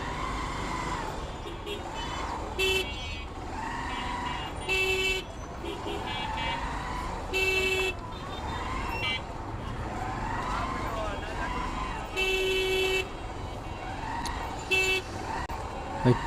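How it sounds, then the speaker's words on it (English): Car horns honking repeatedly in a dense traffic jam, short toots recurring every few seconds over a steady engine and road rumble, heard from a motorcycle, with someone talking throughout. "Huge traffic jam is happening here."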